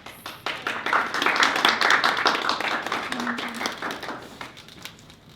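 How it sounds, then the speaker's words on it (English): A small audience claps for several seconds, a dense patter of hands that swells and then thins out toward the end. "So let's give her a round of applause for that."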